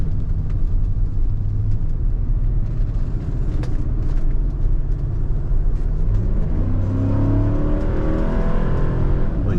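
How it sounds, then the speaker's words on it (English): A 2002 Cadillac hearse accelerates hard after a transmission kick-down, its engine roaring loud and close with a rising, sustained rumble from the cabin, no talking. "Kick down that transmission, so it accelerates very quickly."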